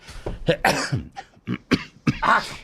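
A series of rough, repeated coughs and throat-clearing bursts, close and fairly loud, coming in irregular fits.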